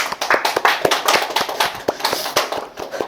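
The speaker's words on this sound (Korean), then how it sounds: "우리 서로 축복 박수 한번 할까요?" A church congregation at a Sunday service claps in blessing, sharp rhythmic hand claps close and loud in an irregular steady beat.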